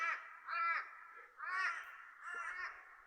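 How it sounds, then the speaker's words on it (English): Crows give several harsh, drawn-out caws in a row at a campsite in the Australian bush, clear and fairly close against a quiet background. "The crows are laughing at us again."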